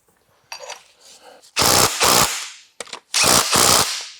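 An impact wrench with a built-in torque limiter drives a suspension bush on a budget track car, firing two loud, rattling hammering bursts of under a second each, plus shorter stutters, up close with voices nearby.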